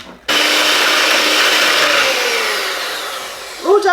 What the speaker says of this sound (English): I'm going to whisk it now, Ellis.